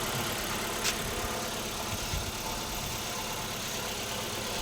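A car engine idles steadily right after an ECU repair, a faint, even hum under broad background noise, with a couple of brief knocks along the way.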